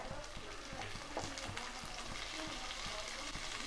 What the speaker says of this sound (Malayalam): തക്കാളി ചേർത്ത് നല്ലവണ്ണം വഴറ്റിയെടുക്കുക